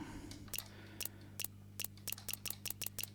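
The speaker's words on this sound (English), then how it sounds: "So it's just a click sound." Short, sharp click sounds from a game audio system, repeated about a dozen times at an uneven quick pace over a low steady hum, fairly faint.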